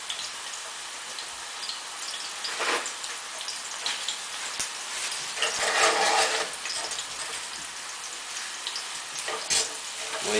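Chicken balls fry in a little oil in a pan, giving a steady close crackling sizzle with brighter bursts as they are stirred or turned, no voices.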